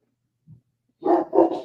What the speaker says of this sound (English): He barks at anything that moves.